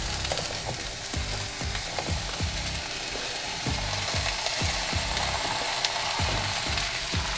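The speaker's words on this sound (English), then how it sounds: "And then I'm just going to add them into my pan." Skin-on potato pieces fry in a pan at a campsite, giving a continuous close sizzle broken by regular light ticks and crackles as the pieces settle and pop.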